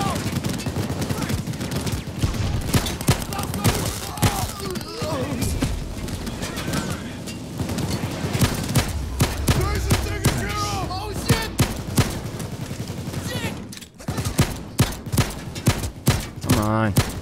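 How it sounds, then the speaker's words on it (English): Rapid gunfire in the video game Payday 2 as a gun's magazine is emptied, dense bursts of sharp repeated shots in quick succession with a brief gap near the end, loud and close. "Let me make sure I use up all the ammo in this gun"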